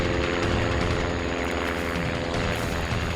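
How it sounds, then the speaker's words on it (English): A steady droning engine hums continuously at a constant loud level, like a propeller aircraft passing nearby, with no voices. "I start realizing it's an airplane."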